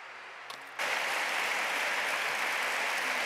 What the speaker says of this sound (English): Really deserved this round of applause